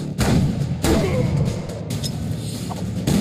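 Explosions from The Culling video game: heavy booms and thuds that come in repeated bursts, loud and close, over a continuous rumbling bed.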